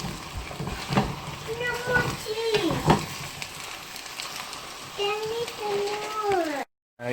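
Chorizo and eggs are stirred together in a hot pan, a soft steady sizzle with scraping stirs underneath, while a person talks over it.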